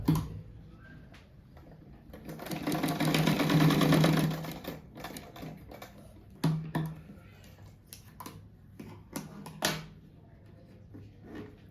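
Sewing machine stitching fabric for a cushion, a loud continuous burst of stitching that stops and restarts in short runs, with handling clicks and pauses between.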